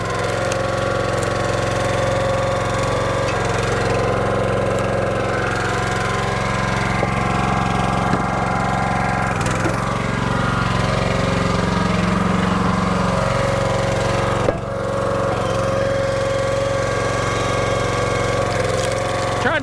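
The engine of a log splitter runs steadily and close by while maple firewood is split, a continuous loud mid-pitched drone with small load changes and a few knocks.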